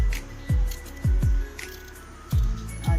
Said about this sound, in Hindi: टुकड़ों में काट लें।